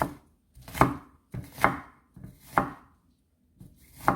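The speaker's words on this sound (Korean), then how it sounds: "이렇게 칼질을" A knife chops ingredients for kimchi fried rice on a cutting board in slow, separate strokes, each a crunchy thud with a short slice, about five or six cuts, close up.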